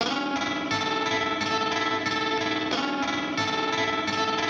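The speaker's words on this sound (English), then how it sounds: "that much choppiness at that speed run into distortion sort of becomes its own" A Boss SL-2 Slicer chopping an electric guitar fed into distortion, dense fuzzy tones cut into rapid rhythmic pulses, loud and continuous with no talk.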